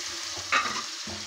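Coriander and mint fry in a pan with a steady close hiss, a brief louder burst of sizzle midway as the leaves go in, then a short dip before frying resumes; no one speaks.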